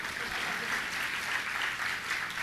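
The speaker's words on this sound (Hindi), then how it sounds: "बोलो, बजाओ तालियां।" An audience at a Jain religious discourse in Siddhvarkut claps steadily, a continuous, fairly distant wash of applause with no pauses.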